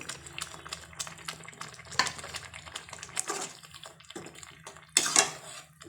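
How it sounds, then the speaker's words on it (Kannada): Salted water boils in a cooking pot, bubbling and popping irregularly up close with scattered sharp splashes and a louder burst of bubbling near the end. "ನೋಡಿ, ಕುದೀತಾ ಇದೆಯಲ್ವ"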